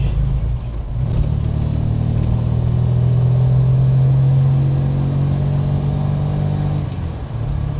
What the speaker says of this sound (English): That really does sing, that supercharger, when it gets going.